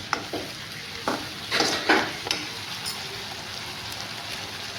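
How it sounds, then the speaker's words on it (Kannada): Chili sauce, tomato sauce and soy sauce being stirred together in a pan while making gobi, a few scraping, sizzling strokes close by over a steady faint hiss, with no voices. "chilli sauce, tomato sauce, soya sauce ಹಾಕ್ಕೊಂಡು ಚೆನ್ನಾಗಿ ಮಿಕ್ಸ್ ಮಾಡ್ಕೋಬೇಕು"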